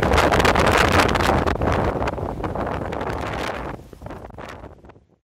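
Strong outdoor wind blasting against the microphone, a loud continuous roar that gradually eases and breaks into a few rustling gusts before cutting off, with no voices.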